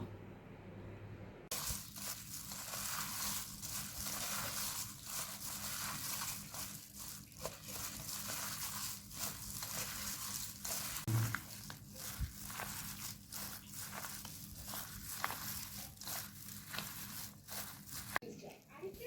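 Puffed rice (muri) is mixed by hand at home, giving a repeated dry crunching rustle in steady strokes, fairly faint and close, with voices talking now and then in the background.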